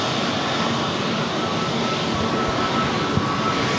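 A Delta Airbus A321neo jet airliner at LAX roars steadily and loudly throughout, a broad continuous engine rumble with no breaks or talk.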